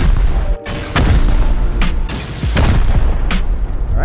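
Loud, deep explosions rumble one after another while raiders blow apart a base in the survival video game Rust, the booms overlapping into a dense, sustained barrage.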